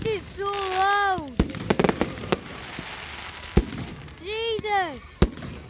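Loud firework bursts and crackles at a firework display, with whistling shells rising before and after a cluster of sharp bangs. People are heard speaking.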